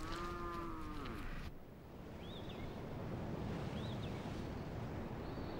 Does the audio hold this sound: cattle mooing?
yes